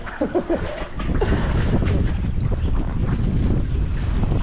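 Strong wind buffeting the microphone under a bridge by a stream in Japan, a steady roaring rush that swells after the first second and stays loud to the end.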